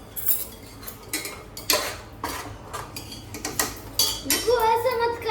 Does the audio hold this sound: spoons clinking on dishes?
yes